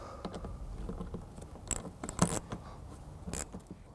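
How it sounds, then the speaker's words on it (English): Two 8 mm bumper bolts on a 2014 Mini Cooper Countryman are worked loose, giving close, faint metallic clicks and ratchety taps with a few sharper clinks, and no talk. "we'll be removing these 2 8-millimeter bolts right here"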